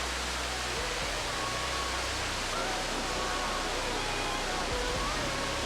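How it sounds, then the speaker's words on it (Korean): Veliki Slap, the tallest waterfall in Croatia at Plitvice, pours down in dozens of streams, giving a steady, dense roar of falling water with no talk over it. "플리트비체뿐 아니라 크로아티아에서도 가장 높은 폭포로 알려진 벨리키슬라 폭포"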